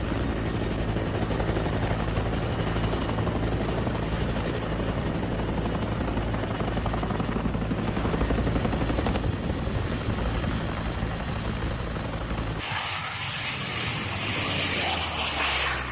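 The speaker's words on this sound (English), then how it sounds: "With a roar like no other, the Augusta Bell 212 sweeps in. Its signature engine howl announces its arrival" An Agusta Bell 212 helicopter engine roars loudly and continuously with a dense rotor-driven rumble, cutting abruptly to a quieter, thinner noise near the end.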